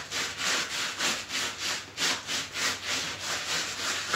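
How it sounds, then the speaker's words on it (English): Chunky absorbent material rubbed into a floor with a foot, about eight rhythmic scraping strokes in a steady back-and-forth pattern, close and alone. "you just rub it into the floor with your foot"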